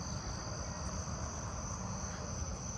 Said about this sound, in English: I'm hearing the jumping bush cricket in that tree again